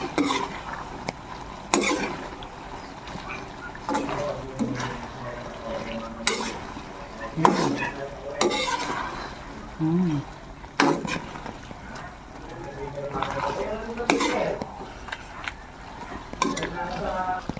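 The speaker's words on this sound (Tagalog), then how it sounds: "Tapos haluin." Dried anchovies being stirred in a cooking pan, with repeated scraping and clinking strokes of the utensil against the pan over a faint sizzle, close by and steady throughout, with a voice talking softly at times.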